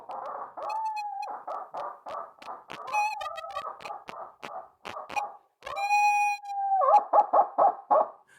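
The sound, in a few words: coyote howl imitated on a Ninja Owl game call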